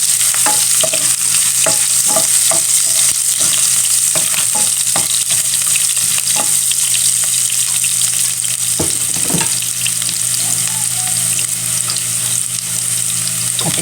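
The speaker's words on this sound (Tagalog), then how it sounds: "Igisa na po natin ang ating luya." Ginger sautéing in a pan for pininyahang manok, a steady close sizzle with repeated scraping stirs of the utensil over it and no talk.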